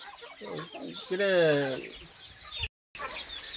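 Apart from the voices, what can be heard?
chickens clucking on a hen farm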